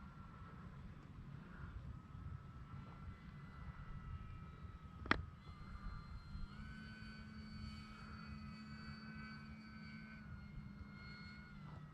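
An E-flite Commander RC model airplane's electric motor whines faintly in the distance as it flies in to land, with a sharp click midway and a thin, rising tonal hum afterward.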